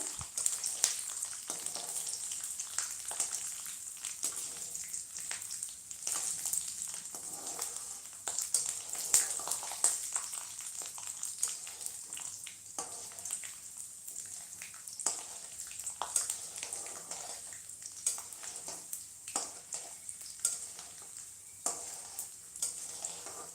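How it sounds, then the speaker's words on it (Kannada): Onions frying in a pan for lemon rice give a continuous soft sizzle with repeated stirring scrapes, close and steady throughout, without talk. "ಇದು ಸ್ವಲ್ಪ ಕೆಂಪಗಾಗೋ ಥರ ನಾವು ಇದರಲ್ಲಿ ಫ್ರೈ ಮಾಡ್ಕೋಬೇಕು"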